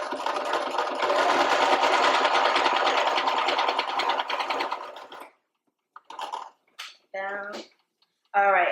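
A sewing machine runs steadily, stitching around a pocket cloth diaper with a fast, even chatter for about five seconds before stopping; a few short clicks and a voice speaking briefly follow.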